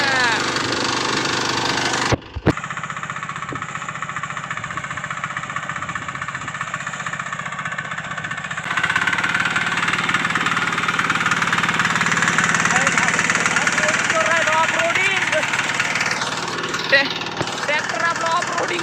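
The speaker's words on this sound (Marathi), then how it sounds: "ट्रॅक्टर आपलं ऑफ रोडिंग करून राहिलंय." A tractor engine runs steadily over rough off-road ground, loud and close throughout with a brief cutout near the start, while people talk over it.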